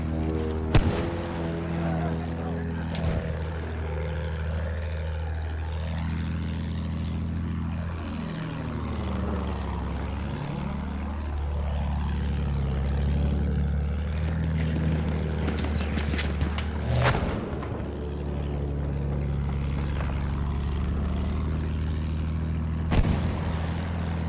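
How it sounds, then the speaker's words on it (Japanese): A propeller airplane drones overhead in the video game Battlefield 1, its engine pitch sweeping down and up as it passes, steady and loud with gunfire cracks. "飛行機だ、上にいるぞ。"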